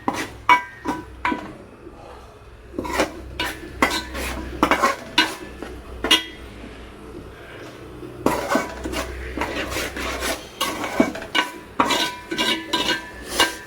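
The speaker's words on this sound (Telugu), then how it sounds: "ఉప్పు, కారం, పసుపు, గరం మసాలా అన్నీ వేసుకొని నీట్గా కలుపుకోవాలి." A spoon stirs fish curry seasoned with salt, chili powder, turmeric and garam masala in a metal pan, with repeated scraping clinks against the pot and a faint sizzle underneath.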